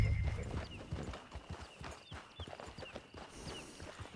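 Horse hooves clip-clopping at a walk in Red Dead Redemption Online, steady and close throughout, with a brief whinny near the start and light ambient game sound beneath.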